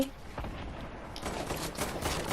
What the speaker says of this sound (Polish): Ej, stamtąd gdzieś ktoś strzela